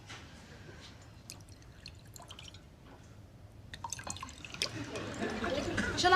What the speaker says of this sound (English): Why have you just poured me a double gin?